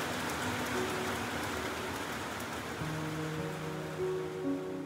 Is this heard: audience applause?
no